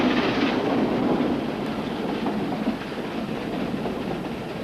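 Ffestiniog Railway train running along the narrow-gauge line, a steady rumbling roar with faint rhythmic wheel clatter, close and continuous, no voices.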